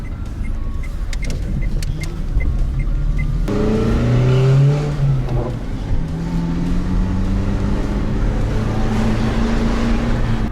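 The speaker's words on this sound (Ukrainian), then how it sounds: "Тест-драйв по дворам. Як воно їдеться?" A used Renault's engine hums steadily while driving through residential courtyards, rising and falling in pitch as it accelerates and shifts, with road noise throughout and no talking.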